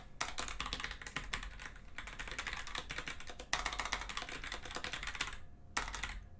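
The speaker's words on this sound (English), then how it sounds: "I'll type this here." Fast, steady typing on a computer keyboard, dense close clicking keystrokes with a brief pause near the end before a final short burst.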